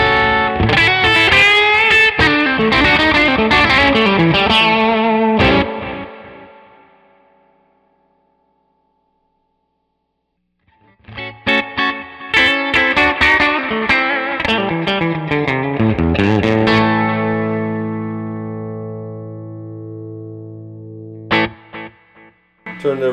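Electric guitar played through a 1967 Deluxe Reverb amp with the reverb set around 4, loud chords and notes ringing with spring reverb, a pause of near silence midway, then more playing that decays.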